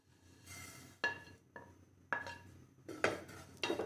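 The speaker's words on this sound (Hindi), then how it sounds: "तो मेरा पैन गरम है, मैं इसमें ड्राई रोस्ट करने वाली हूँ।" Cumin, fennel and carom seeds clatter into a hot dry pan and are stirred about, a few distinct rattling bursts and scrapes close by, fairly quiet with pauses between.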